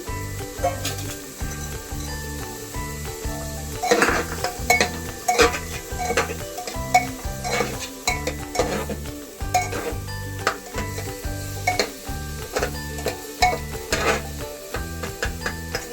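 Chopped beans are frying in a pan for chicken stew, with a quiet sizzle beneath rapid, regular scraping and clattering strokes of a metal spatula against the pan, close and busy throughout.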